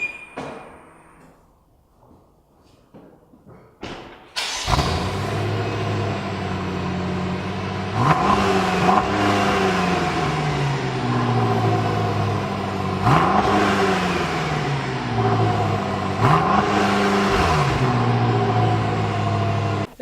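A 2013 BMW M5 engine cranks, catches and settles into a loud close idle, then is revved several times in sharp rising and falling bursts, after some faint clicks and no talking.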